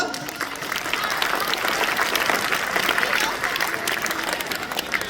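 An audience at a Bangladeshi school or youth event claps for its teachers, dense sustained applause filling the room, with a voice speaking over it.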